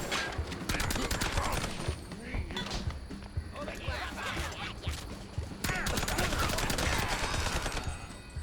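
Rapid bursts of gunfire in a detective video game crackle in quick volleys, with sharp repeated shots at the start and again near the end, over game sounds and background noise.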